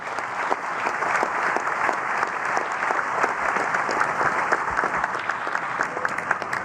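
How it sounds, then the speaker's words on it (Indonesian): Sustained applause from a large crowd at the 2019 Indonesian presidential inauguration, steady and loud throughout with dense clapping and no talking. "memberikan tepuk tangan yang meriah"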